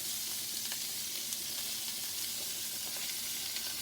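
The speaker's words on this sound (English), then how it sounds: "I wanted to cook my onions first a little bit before I put my ground beef in there" Onions fry in a pan ahead of ground beef for stroganoff, making a constant close sizzle with faint occasional stirring clicks.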